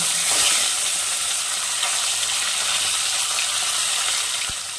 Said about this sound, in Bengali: বাকি মাছগুলো আবার ভেজে নেব